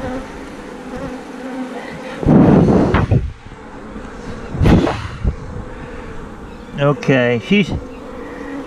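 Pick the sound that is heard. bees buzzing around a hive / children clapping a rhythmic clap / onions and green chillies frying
bees buzzing around a hive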